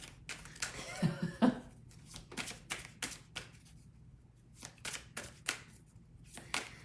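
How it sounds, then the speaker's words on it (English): A deck of cards being shuffled in a quiet room, a quick flurry of riffling followed by a steady series of sharp, close card snaps and taps, with no talking. "All right, shuffle again."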